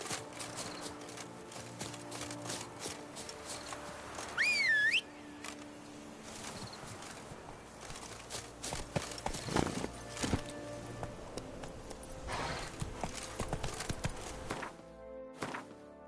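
Roach the horse trots with rhythmic clip-clopping hooves in The Witcher 3: Blood and Wine, a steady run of hoofbeats over ambient game music with a brief whinny-like cry early on.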